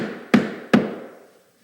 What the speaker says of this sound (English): tap it in using the rubber end of the hammer